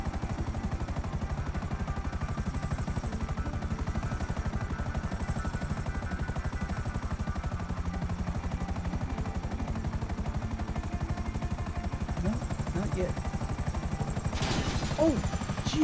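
Police helicopter in a GTA-style ESX roleplay game, a constant dense rotor chop and engine drone that fills the whole stretch, steady and close, with a brief sharper burst near the end.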